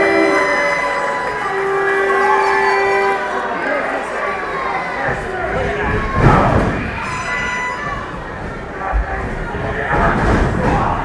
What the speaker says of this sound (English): The crowd letting Brody have it